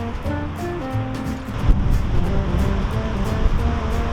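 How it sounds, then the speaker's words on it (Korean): Wind blowing steadily and fairly loud through an outdoor setting in Vienna, a continuous broadband rush with gusts and low rumble, no talking. "춥지도 덥지도 않은데 바람이 불어가지고."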